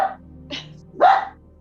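Indoors, a poodle mix gives a few short, close barks or yips, the last one stronger than the first.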